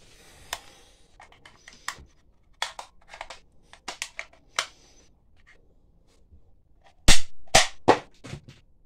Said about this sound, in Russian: И когда мы фиксируем его в зарядном положении, предохранитель убирается в бок и происходит выстрел.